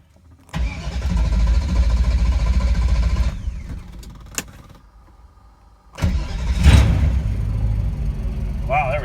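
A 1976 Mercedes 240D with a 5.5 V8 swap turns over and catches on a cold start, idles roughly, then goes quiet and fires up again with a loud rev, with brief voices in between.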